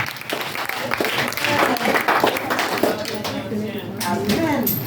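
Church congregation clapping in praise of the Lord during a sermon, a sustained burst of applause with cheers and voices mixed in, dense and fairly close, with speech rising through it near the end.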